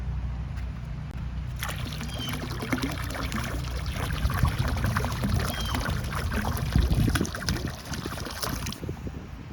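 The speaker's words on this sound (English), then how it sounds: "we'll mix it up a little bit using my pool pole" A pool pole sweeping and stirring the water of a backyard pool after a storm, a steady close sloshing and swishing that rises and continues for several seconds under low background noise.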